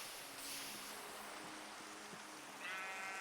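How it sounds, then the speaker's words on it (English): Sheep in the Minecraft video game bleat softly over a steady wash of rain, a few faint wavering calls at a distance. "Hello, sheep."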